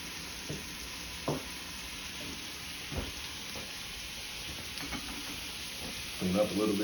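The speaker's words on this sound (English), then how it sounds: "So while that chicken is sauteing" Chicken sautés in a pan for a chicken sandwich, giving a steady soft sizzle and frying hiss throughout, with a few brief clatters and a louder stir near the end.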